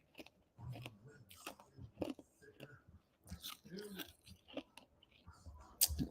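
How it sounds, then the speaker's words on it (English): Ice being chewed: a run of sharp crunches and bites, close and fairly quiet, arriving in irregular bursts with short pauses between. "chewing the ice"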